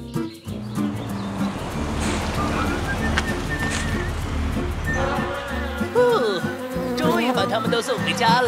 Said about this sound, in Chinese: 不会是蜜蜂又来了吧？